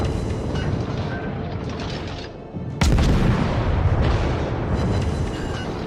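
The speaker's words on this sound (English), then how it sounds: "Somebody's firing at us." Naval gunfire aimed at the German Tier I cruiser Hermelin in World of Warships, with loud booming shell blasts and a sharp heavy hit near the middle over continuous ship and sea rumble.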